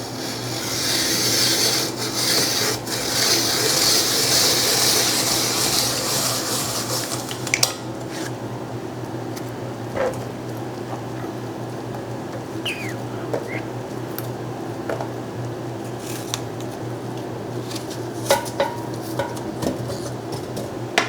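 Apples being cored with a hand tool for applesauce, a rasping, rubbing crunch at first, then scattered scrapes, clicks and small knocks of fruit and tool, close up with no talk.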